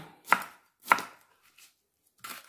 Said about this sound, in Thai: พริกหยวกนี่เราก็หั่นเล็ก ๆ เหมือนกันค่ะ